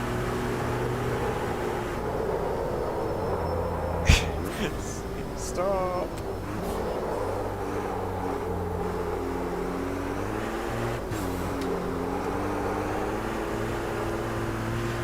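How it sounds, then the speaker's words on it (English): MAN racing truck from Automobilista 2 running flat out at around 230 km/h on the Bathurst circuit, a steady loud droning engine roar with shifting tonal bands throughout, under a man's speech and a brief sharp knock near four seconds. "230 kilometers an hour in a truck. It's a bit loud,"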